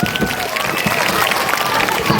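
Vigorous applause at a school annual function, a dense, continuous wash of clapping from a large audience with some voices and cheering mixed in, loud and close.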